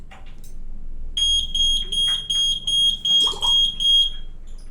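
An Ajax home security siren buzzer sounds a series of about eight sharp, high electronic beeps in a steady rhythm, close and clear over a quiet room.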